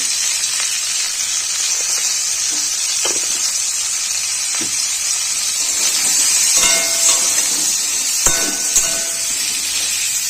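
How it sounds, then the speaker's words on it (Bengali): Pointed gourd frying in hot oil with panch phoron, salt and turmeric, a loud continuous hissing sizzle close up, broken by occasional clicks and scrapes of a spatula. "পটলে নুন দিয়ে দিলাম, পাঁচফোড়ন দিয়ে দিয়েছি, সেগুলো দিয়েছি আমি পাঁচফোড়ন, নুন হলুদ দিয়ে পটলটাকে ভেজে নেব"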